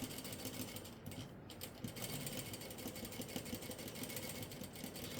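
A sewing machine stitching trousers runs in a steady, fast mechanical whir with a regular rapid ticking, sustained and fairly close, briefly dipping near the one-second mark.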